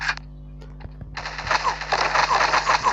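Sustained automatic gunfire in a shooting video game opens up after a brief pause and keeps rattling in a rapid, continuous burst for the last two seconds.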